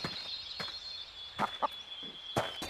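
A chicken in the Blade and Sorcery video game clucks in a few short, separate bursts over a quiet background, each squawk close and brief.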